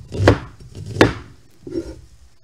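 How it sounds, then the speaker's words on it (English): Three knife chops of onion on a cutting board for chicken soup, two sharp close strikes followed by a softer third, with quiet pauses between and no voices. "we're going to cut these onions up"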